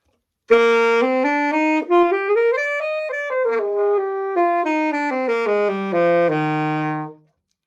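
A saxophone played with an even circular embouchure plays a smooth melodic line alone, its tone full and steady, notes sliding up and then gradually descending, held evenly at a consistent loudness.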